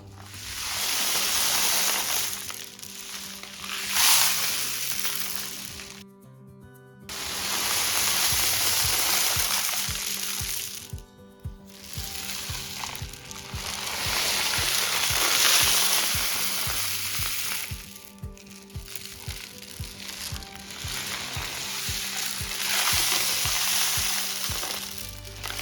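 A homemade rain stick wrapped in gift wrapper is tipped back and forth, sending long hissing cascades of tumbling grains, like sizzling rain, in several waves separated by brief silent pauses, close and fairly loud with no talking.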